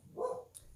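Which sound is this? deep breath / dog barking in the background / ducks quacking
dog barking in the background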